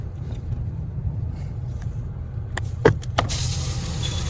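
A car rolls into a shopping mall's parking area, its low engine and road rumble steady throughout, with a few brief clicks and a short mechanical whir partway through, followed by a brighter rushing noise near the end.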